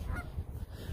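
Geese honking by a pond, several birds calling repeatedly and fairly close, their honks overlapping in a steady, continuous clamor.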